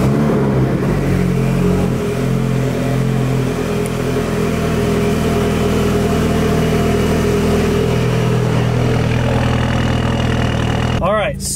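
A 2015 WRX with a freshly installed fuel pump, set up for e85, runs close by with a steady, loud engine drone that shifts near the end as the car moves off, with talking alongside.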